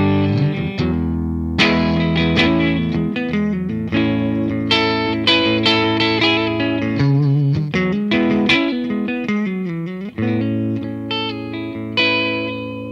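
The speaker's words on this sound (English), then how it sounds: "The Brit mode's based on a Vox AC30." Electric guitar played through a Peavey Vypyr Tube 60 amp in its Brit mode, modelled on a Vox AC30, giving valvey breakup; a continuous run of chords and single notes with effects, loud and close, no voices.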